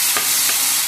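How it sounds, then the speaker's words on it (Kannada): Crabs dropped into frying tomato masala give a loud, steady hiss of sizzling oil, with a couple of soft stirring scrapes, close by and with no talk. "ಇವಾಗ ಟೊಮೆಟೊ ಎಲ್ಲ ಫ್ರೈ ಆದಮೇಲೆ ನಾನಿವಾಗ ಕ್ರ್ಯಾಬ್ಸ್ನ ಇದಕ್ಕೆ ಹಾಕ್ತಾಯಿದ್ದೀನಿ."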